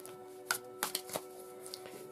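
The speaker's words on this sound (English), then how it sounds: "I'm just giving them a last minute shuffle" A Shadowscapes tarot deck is shuffled quietly, with a few soft riffling bursts and pauses between them.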